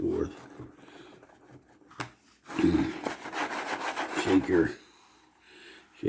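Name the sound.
magnetic sand removal tool rolled back and forth through sand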